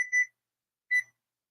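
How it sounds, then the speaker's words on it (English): A kitchen timer goes off while a pie shell bakes for a homemade pumpkin pie: two short, clear electronic beeps about a second apart, close by in a quiet room. "our timer's going off"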